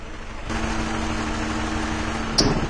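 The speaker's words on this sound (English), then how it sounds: "you're just going to be able to hear the engine stumbling" A 2004 Jeep Cherokee engine idling with a misfire, recorded close up: a steady mechanical hum that starts abruptly, carries a constant low tone, and catches in a brief uneven stumble near the end.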